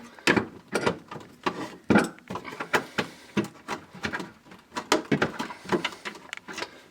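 Bolts are worked loose inside a refrigerator during a water reservoir replacement, giving a run of close, sharp ratcheting clicks and clunks in uneven bursts with brief pauses between them.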